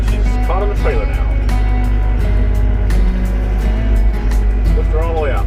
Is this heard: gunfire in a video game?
no